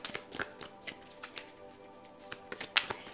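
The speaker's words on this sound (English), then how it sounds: "they're having me pull some Earth Alchemy Oracle cards now" Earth Alchemy Oracle cards are shuffled and pulled, giving a string of quick papery riffles and flicks, close and fairly quiet, with a sharper snap near the end and no talking.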